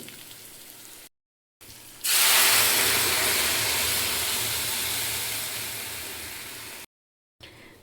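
A sudden loud hiss as dal is poured into hot oil with fried onions, then a steady sizzle that slowly fades, with brief silent breaks around it.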